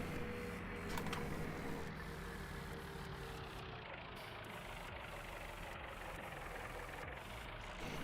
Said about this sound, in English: This is a nice tractor, honestly.